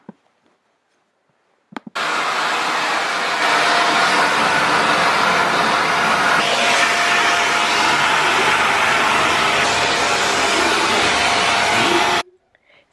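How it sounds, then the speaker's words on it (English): A Shark anti-hair wrap vacuum cleaner runs on laminate flooring, switching on with a click and a loud, steady whooshing roar that holds for about ten seconds before cutting off. "So I went on to test the anti-hair wrap Hoover on the laminate flooring and I was really pleased with the way it glided along"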